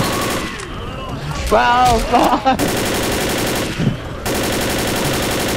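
Pistol gunfire in a first-person shooter game, a dense rattle of rapid shots running through most of the stretch, loud and close, with a player's excited voices over it and a brief pause near the end.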